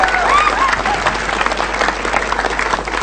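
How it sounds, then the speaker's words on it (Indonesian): A stand-up comedy crowd breaks into loud, lively applause, dense clapping mixed with crowd noise and a few voices calling out over it. "tepuk tangan dulu yang meriah yo"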